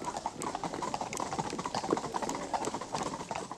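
Police horses from a mounted unit trot and gallop, hooves clip-clopping in a quick, uneven rhythm on hard ground at moderate distance, with faint background noise and no clear voices.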